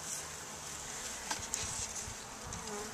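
Honeybees buzz steadily during a hive installation, a soft, constant droning swarm hum with a couple of faint knocks partway through.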